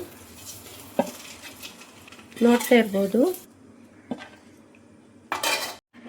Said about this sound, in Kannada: ಇವಾಗ ಇದನ್ನು ಒಂದು ಪ್ಲೇಟಿಗೆ ಹಾಕ್ಕೊಳ್ತೀನಿ